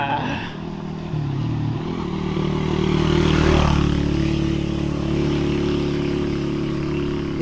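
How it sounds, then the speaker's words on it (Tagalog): A motorcycle passes along a rural road lined with cacao and mahogany trees, its engine rising to a loud nearby peak midway and then droning steadily as it moves on. "Motor."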